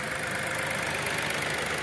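A 2021 Renault Logan three-cylinder engine idles steadily with a smooth, even hum, close up and continuous with no talking.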